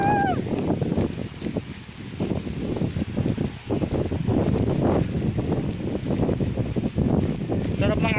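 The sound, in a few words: wind blowing on a boat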